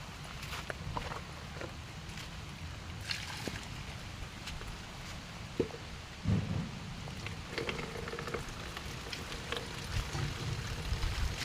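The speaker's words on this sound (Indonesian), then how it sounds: "Hujan deras guys." Heavy rain pours steadily, a dense, constant hiss with occasional thuds and low rumbles, loud and close throughout with no talking, during work planting a bonsai on rock.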